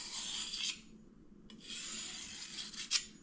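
A butcher's knife drawn along a sharpening steel or stone while processing a steak roll, giving two long, fairly quiet rasping strokes separated by a short pause, with a brief sharper scrape at the end.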